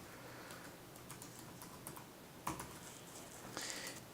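Keys tapped on a computer keyboard while a chart title in a business spreadsheet is retyped; quiet, irregular clicks with a couple of louder strikes near the middle and end, no talking.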